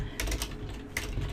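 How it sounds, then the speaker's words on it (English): Keys of a computer keyboard tapped while code is entered, a few soft clicks over a steady low hum in a short, quiet stretch. "see how I'm typing it incorrectly"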